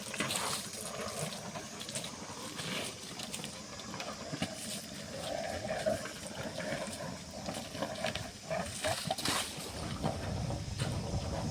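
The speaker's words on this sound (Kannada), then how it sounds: "1 ಇಂಚಿಂದು ವಾಟರ್ ಪೈಪ್ ಇದರಲ್ಲಿ ಇಷ್ಟು ನೀರು ಬರ್ತಾ ಇದೆ" Water gushing from a one-inch pipe fed by a 1050-foot borewell pumped by a single-phase SELKON motor, a steady noisy splashing rush with a faint machine hum, continuous and moderately close.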